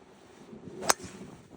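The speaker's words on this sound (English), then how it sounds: "Such a windy day." Wind gusting across a championship golf course in Nottinghamshire, a low rumbling buffet of wind noise against the microphone with one sharp brief hit in the middle.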